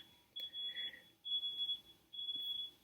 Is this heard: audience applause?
no